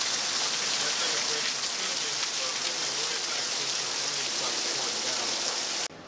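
Steady rain falling and pattering on surfaces outdoors during a brake job on a 2016 Chevrolet Camaro SS, a dense continuous hiss that cuts off abruptly at the end.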